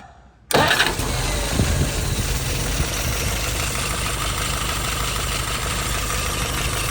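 A Yamaha YS 950S engine, recently fitted with a new throttle shaft, cranks and catches after a short quiet moment, then runs at a loud, steady idle close by.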